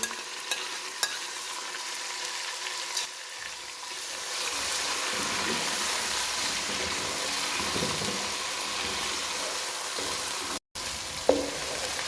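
Whole green chillies and chopped tomatoes sizzle steadily in a hot pan of oil while cooking aloo gobhi, a constant frying hiss with occasional stirring clinks, no talking.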